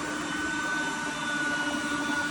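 A 1986 Oreck XL 100C upright vacuum cleaner motor runs steadily at close range, a constant whine with a high tonal hum and no breaks.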